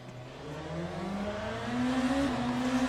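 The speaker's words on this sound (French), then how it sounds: "Tu démarres en hybride, t'entends pas, et le moteur qui s'allume après, c'est excellent." In the Le Mans Ultimate racing game, a hybrid race car pulls away on silent electric power before its combustion engine fires. A low engine hum rises into a steadily climbing, buzzing tone that grows louder toward the end, with no speech.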